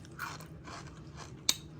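Biting and chewing an oven-crisped Parmesan ranch snack baked at 350 degrees, heard up close as soft crunching with one sharp, loud crack, then quiet chewing, with no talk.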